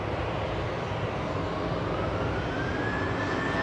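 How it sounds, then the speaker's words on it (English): A Ryanair Boeing 737 accelerating on its take-off roll at Manchester Airport, a steady broad jet roar with a slowly rising whine, continuous and fairly distant, no voices. "Ryanair on the roll"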